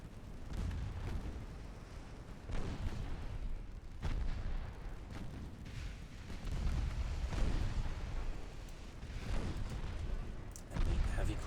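Secondary guns on a warship in the Ultimate Admiral Dreadnoughts naval game fire at a light cruiser. Low rumbling booms repeat every second or two over a constant dull battle roar, moderately loud and steady.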